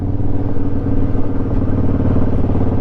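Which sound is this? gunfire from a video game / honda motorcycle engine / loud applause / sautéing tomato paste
honda motorcycle engine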